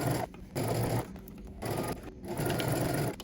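A sewing machine basting fabric pieces together runs in several steady bursts of rapid stitching, separated by short pauses, close but moderately quiet.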